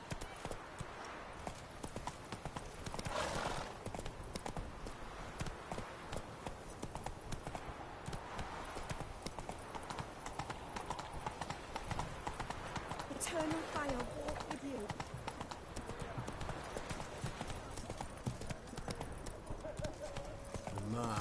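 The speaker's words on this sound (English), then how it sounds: "Run, Roach." A horse gallops in The Witcher video game, its hooves giving a steady, fast clip-clop throughout. Someone talks and urges the horse on over the hoofbeats.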